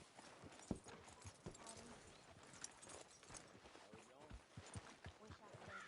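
Horse hooves clip-clop in a PS4 video game, an irregular run of hoof strikes with a few louder hits, heard under characters talking.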